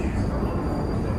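An old metro train in Russia gives off a loud, steady rumble with broadband roar, close and continuous throughout, with no distinct events.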